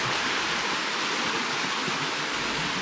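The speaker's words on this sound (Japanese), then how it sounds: "メレンディス川のせせらぎの音がとても心地よいです" Babbling stream of the Melendiz River in a rocky valley of Cappadocia, Turkey, a steady broadband rush of running water with no pauses, fairly close and continuous throughout.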